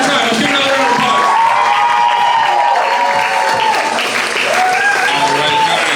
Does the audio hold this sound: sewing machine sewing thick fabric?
no